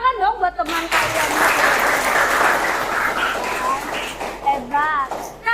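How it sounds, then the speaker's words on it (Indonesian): A classroom of students bursts into sustained applause for a classmate during a math lesson, dense clapping lasting several seconds between a teacher's spoken lines. "beri tepuk tangan dong buat teman kalian"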